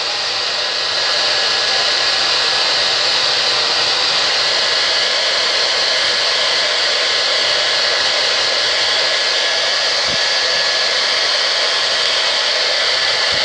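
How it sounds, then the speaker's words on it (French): A small hair dryer blows steadily on the inside of an arm to dry Halloween make-up, a loud, close, unbroken whooshing whir that runs the whole time with no one talking. "sèche-cheveux. Et on va finir de faire sécher l'intérieur du bras"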